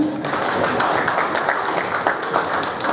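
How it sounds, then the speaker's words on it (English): An audience at a graduation ceremony applauds, a dense, steady wash of many hands clapping for the full stretch, loud and close. "Can you clap for him?"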